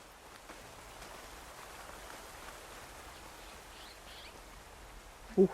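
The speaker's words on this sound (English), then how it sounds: "There's the rain." Steady, soft rain falls across an outdoor landscape in the video game Horizon, a constant hiss with faint scattered drops and a brief louder thump near the end, no talking.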